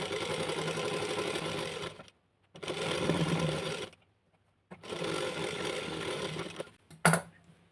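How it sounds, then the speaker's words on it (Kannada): A sewing machine stitches a blouse lining in three steady bursts of running, separated by short pauses, close and fairly loud, with a brief knock near the end. "ಇವಾಗ ಒಂದು ಕಾಲು ಇಂಚ್ ಅಷ್ಟು ನಾನು ಸ್ಟಿಚ್ನ ಹಾಕ್ತೀನಿ"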